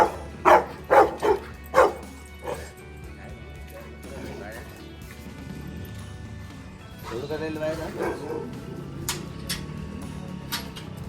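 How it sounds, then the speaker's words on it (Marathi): A dog barks in a quick burst of four or five sharp, close barks at the start, then faint whimpers and softer noises continue while people talk in the background. "हे पाहू शकता अनिकेतचं कुत्रा"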